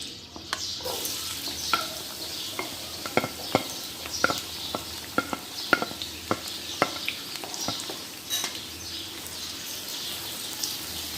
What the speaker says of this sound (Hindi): इसको गोल्डन फ्राई करना है।